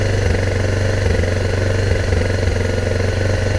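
A low-compression Kawasaki Bayou 300 ATV engine idling at a slightly raised idle, a steady, loud, close-up mechanical chug with an even pulsing rhythm and no pauses.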